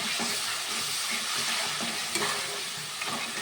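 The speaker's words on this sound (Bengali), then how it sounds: "আদা রসুন কাঁচা লঙ্কা পাকা লঙ্কা বাটাটা দিয়ে দিয়ে সুন্দর করে ভাজাভাজি করবো" Ginger, garlic, and green and red chili paste frying in oil in a pan, a steady, close sizzle with soft stirring scrapes throughout and no voices.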